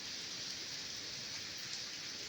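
Rain falling outside a house, a soft, even hiss of steady drizzle heard from indoors, faint and continuous with no voices.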